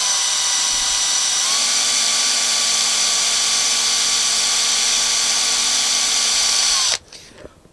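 A hand drill bores a 4mm hole into a Fender-style guitar body for a neck bolt insert, a steady close whine with a pitch rise as the bit bites, running continuously before stopping abruptly.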